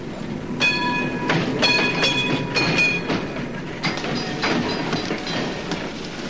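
A streetcar runs on its rails, with a steady rumble, repeated rhythmic clacks and brief metallic squeals. It sounds loud and close, and no voices are heard.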